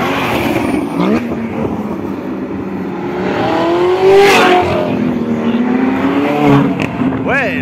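A car engine revs at a busy street gathering of sports and performance cars, its pitch climbing and falling in drawn-out sweeps, with people talking nearby throughout.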